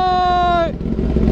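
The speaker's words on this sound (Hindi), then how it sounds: "सब बाइक अभी कोल्ड स्टार्ट हो रहा, ये भी कोल्ड स्टार्ट हो रहा है" Motorcycle on a cold start: a steady, strained engine whine drops away after a moment into a rough, uneven low rumble, loud and close.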